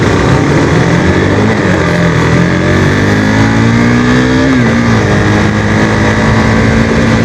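A KTM RC390 motorcycle accelerates hard in the rain, its engine note loud and close, rising in pitch and holding strong over steady wind rush, with no talking.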